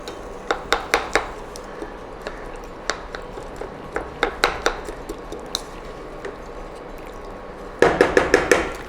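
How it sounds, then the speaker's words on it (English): Tomatoes being squished in a pan for tikka masala make a string of soft, wet squelching taps and utensil clicks against the metal, spaced irregularly with a quicker cluster at the end. "I'm just squishing them a little bit."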